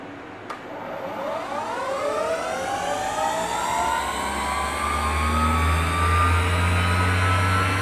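A Hyundai Kia engine revs up steadily to about 6,000 RPM, its rising harmonic whine climbing and holding loud and close for several seconds with a deep low hum beneath.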